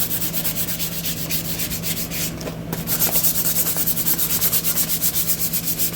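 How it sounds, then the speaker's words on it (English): Hand sanding of a wooden gun stock with 220-grit sandpaper: steady, rhythmic back-and-forth rasping strokes, close and fairly loud, with a brief pause midway. "Just going to kind of smooth everything up with this 220 sandpaper."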